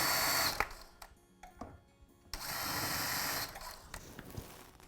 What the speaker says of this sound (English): I'll pre-drill my holes in the center.